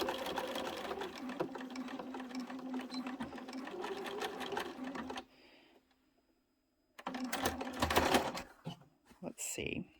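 A sewing machine topstitches piping onto the front pocket of a hip bag at a longer stitch length, running in rapid steady bursts that stop for a quiet pause and then start again, loud and close.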